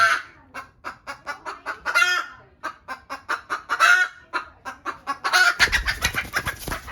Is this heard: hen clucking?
yes